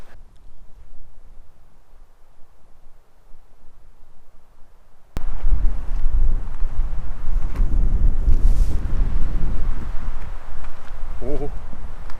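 Strong wind buffets the microphone on a mountain hike on the Canary Islands, a low roaring rumble that suddenly grows much louder midway and stays steady, with a brief voice near the end.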